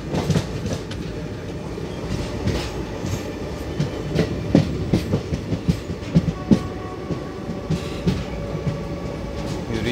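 A Mysore–Arsigere passenger train runs on track just after Hassan in India, its wheels giving a loud, rhythmic clickety-clack of joints and rumbling carriages, close by and with no talk.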